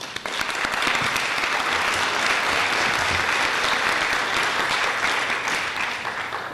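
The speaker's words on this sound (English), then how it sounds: "I think that's worthy of a round of applause." An audience at an annual lecture on race, equity and education breaks into loud, sustained applause that fills the room for several seconds, dense and even with no speech over it.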